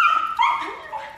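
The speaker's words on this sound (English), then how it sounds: "You don't need to bark." A dog barks and yips indoors during grooming with a brush, a loud close bark sliding into a whiny, whimpering yelp.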